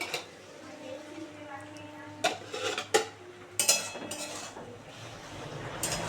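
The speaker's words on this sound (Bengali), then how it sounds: "একটু খুলে দেখি, নেড়ে দিই।" A lid comes off a pot of pui shak cooked with fish roe, then a spoon stirs it, giving several sharp metallic clanks and scrapes over a low kitchen hum.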